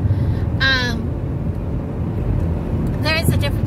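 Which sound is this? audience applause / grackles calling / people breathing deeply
grackles calling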